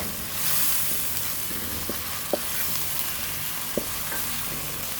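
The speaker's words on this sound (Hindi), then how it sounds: "यहाँ पे इसको भी हम फ्राई कर लेंगे, इसका प्यारा सा कलर आ जाएगा" Potatoes sizzle steadily in a hot pan while being fried for an egg and potato curry, with a constant close frying hiss and a few sharp stirring taps.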